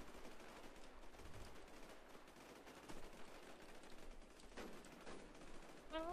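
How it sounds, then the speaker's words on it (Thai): Repeated bursts of automatic gunfire in an online shooter game with snipers, a dense, continuous rattle of shots of middling loudness with no talk over it. "เฮ้ยไอ้เหี้ยมันยิงกูจากตรงไหนวะ"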